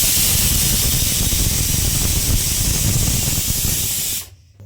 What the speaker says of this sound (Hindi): कुकर में लग रही है सीटी।